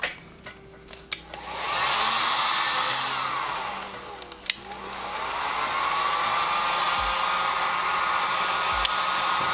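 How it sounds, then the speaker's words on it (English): A heat gun blows on a sticker stuck to a videocassette, a steady close whooshing roar with a rising whine as it spins up, briefly dipping midway before resuming, with a few clicks. "So let's hit this with the heat gun."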